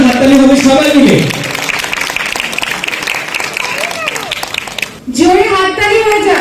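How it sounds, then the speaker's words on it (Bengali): Audience at a stage event applauding, a dense loud burst of clapping that fades as a voice speaks over it, with strong talking at the start and end. "স্যারের জন্য একটা জোরদার হাততালি হবে সবাই মিলে।"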